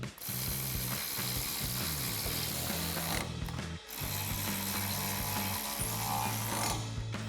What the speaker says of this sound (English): we're gonna tighten these down with a 13mm socket